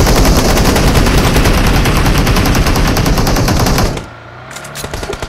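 Loud, close automatic gunfire in PUBG Mobile rattles as one continuous rapid burst for about four seconds, then cuts to quieter game ambience with a few faint clicks.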